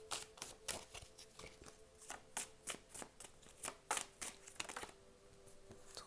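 Tarot cards being shuffled by hand in repeated quick riffles and flicks, crisp and close, with a faint steady hum underneath and no talking.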